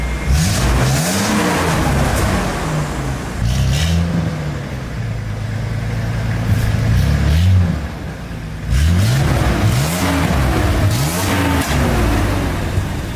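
A hot rod's engine revs hard through its exhaust in repeated surging blips, rising and falling close by, pausing briefly before another burst of revving.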